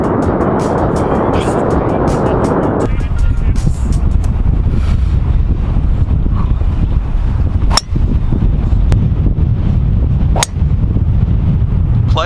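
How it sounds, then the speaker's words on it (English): Strong winter wind on a golf course buffets the microphone in a steady, loud roar of low rumble, with brief gust-like dips and a few sharp clicks. "Dude, it is windy today."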